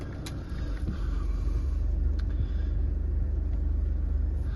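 A Jaguar F-PACE 2.0 D180 diesel R-Sport SUV idles with an automatic gearbox, giving a steady, close low rumble that holds even and smooth throughout with no voices.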